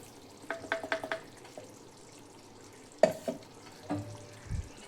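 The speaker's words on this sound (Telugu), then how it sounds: "ఇలా యాడ్ చేసిన తర్వాత ఈ మసాలాని ఇలా బాగా కలుపుకోవాలి." Spice masala being stirred and mixed into chicken biryani in a pot, with quiet scraping and clinking strokes coming in short clusters against a soft background sizzle.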